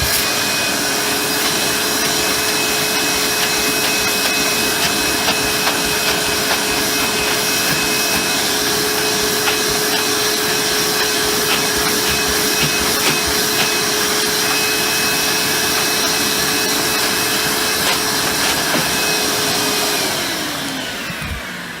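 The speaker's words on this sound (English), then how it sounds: "So let's just get the rest up with the hose." A Vax New Wave 1300 carpet washer roars continuously as its hose sucks up water from soaked carpet, a loud steady motor whine with crackling suction that holds for about twenty seconds, then winds down.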